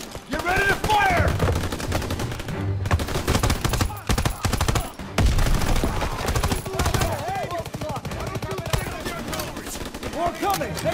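Dense gunfire in the Call of Duty WWII game, rapid machine-gun bursts and rifle shots crackling almost nonstop, mixed with shouted battlefield voices and effects, loud and close throughout.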